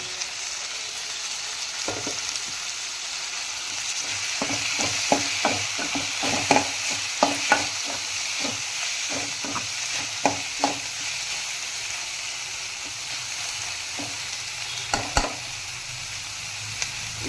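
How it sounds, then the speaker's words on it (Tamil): Chopped tomato sautéing in a pan for chicken keema, a continuous loud sizzle with many quick spatula taps and scrapes clustered in the middle. "கொஞ்சம் வதங்கட்டும்."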